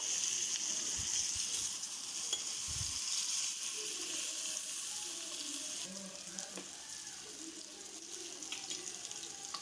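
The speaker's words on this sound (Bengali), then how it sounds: "বেগুনটা এবার খুব ভালোভাবে ভেজে নেব" Steady hissing and crackling of eggplant frying in oil, continuous and fairly quiet, with a few soft kitchen knocks and no talking.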